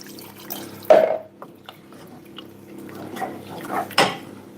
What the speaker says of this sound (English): And a bit more water.